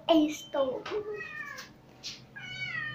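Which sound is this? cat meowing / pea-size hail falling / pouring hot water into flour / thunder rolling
cat meowing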